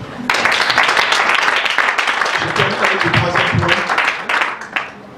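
Church congregation applauding and cheering in acclaim of Jesus during a youth sermon, a dense, steady wash of clapping and voices lasting several seconds before tapering off.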